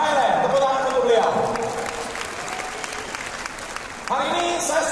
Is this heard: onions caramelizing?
no